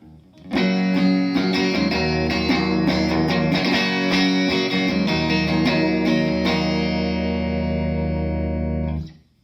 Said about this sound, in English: So this is the sound of the guitar and amp,